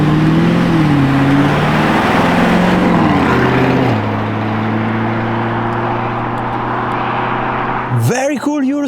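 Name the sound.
Lamborghini Urus Performante engine revving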